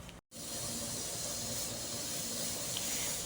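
A pressure cooker whistle releases steam in a loud, continuous hiss that runs almost unbroken for several seconds after a brief gap at the start.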